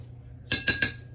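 Beaten egg is mixed with milk in a bowl, giving three quick, sharp clinks of a utensil against the dish in close succession, loud and close.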